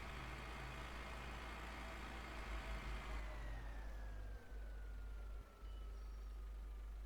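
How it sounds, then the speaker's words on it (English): A large, powerful tractor in Farming Simulator 15 drones loudly and continuously, working a wet, muddy field; the engine noise holds steady, then its pitch slides lower partway through. "This is the biggest and most powerful tractor that I've got."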